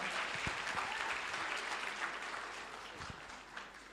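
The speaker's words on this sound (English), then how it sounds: "Let's clap our hands as she comes over." An audience claps steadily at the Africa Science Buskers Festival 2024 as a woman is welcomed to the stage for opening remarks, a dense, even patter with a few low thumps that fades slightly toward the end.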